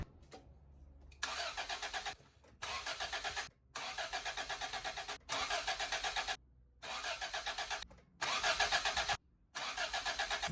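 A Toyota AE86 that has just had its fuel pump replaced, its starter cranking in repeated bursts of rhythmic whirring separated by short pauses, close and loud, with no talking.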